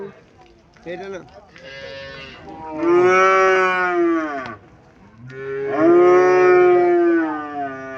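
Two long, loud, close moos ring out at a cattle market in Chauara, Comilla, each swelling and falling, after brief softer calls at the start.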